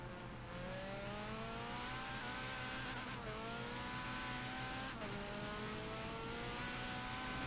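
A Mercedes race car in a sim racing game at Sonoma, the engine droning and rising steadily through the gears with brief drops at shifts, loud and continuous with no talk.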